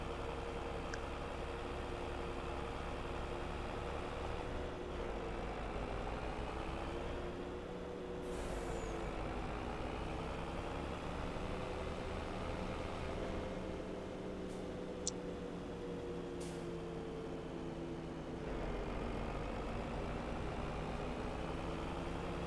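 A truck in a farming simulator game idles with a low, steady engine drone, its pitch rising and falling slightly, punctuated by brief hissing air-brake bursts, with no talking.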